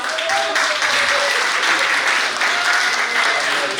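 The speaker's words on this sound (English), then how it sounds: "Give her a round of applause." Loud, continuous audience applause, a dense wash of many hands clapping together at a steady level throughout.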